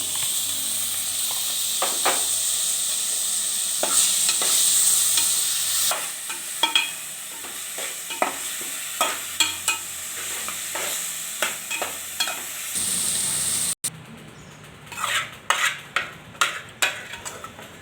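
Bitter gourd (kakarakaya) fry cooking in a pan, a steady sizzle and hiss for the first stretch, then repeated scraping and stirring clatters of a utensil against the pan, close and alone without talk.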